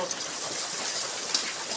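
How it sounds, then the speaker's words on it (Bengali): Steady rain keeps falling outdoors at a village home, a dense even hiss of drops on surfaces with a few brighter splashes, heard alone for a couple of seconds. "সেই সকাল থেকে বৃষ্টি হতেই আছে হতেই আছে"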